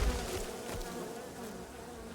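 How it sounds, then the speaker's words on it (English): Bees in the Len's Island game drone in a steady buzzing swarm that holds at an even level for the whole stretch, with no talk over it. "Oh, stupid bees."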